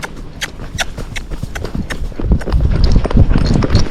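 Hoofbeats of a Tennessee Walking Horse breaking into a canter on flat ground, starting as sharp separate clops and building into a louder, heavier rolling rhythm toward the end.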